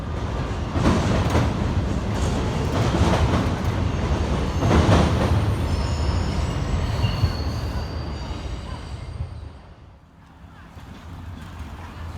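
A long container freight train of over 300 containers rumbles steadily past nearby on the Martinez Subdivision, wheels clattering and occasionally squealing on the rails, the noise easing slightly near the end.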